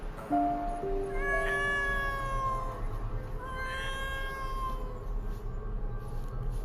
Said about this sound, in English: Is that bag meowing?